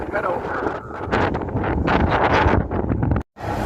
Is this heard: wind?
yes